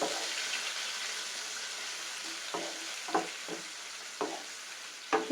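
Prawns frying in a pan for prawn biryani, a steady bright sizzle with a few sharp stirring clinks and scrapes scattered through it.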